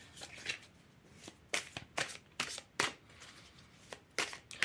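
Tarot cards are shuffled close by in a quiet room, giving a series of quick, crisp riffling bursts in an uneven rhythm.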